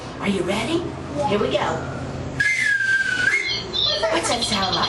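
A slide whistle played by a clown at a Lions Club circus event glides up and down in pitch for about a second, surrounded by talk before and after.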